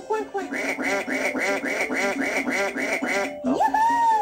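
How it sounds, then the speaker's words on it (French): Eight or so evenly spaced duck quacks in a steady rhythm from a Dora game on the V.Smile console, close and loud, ending in a rising chime-like tone. "Le nombre de canards qui font coin-coin."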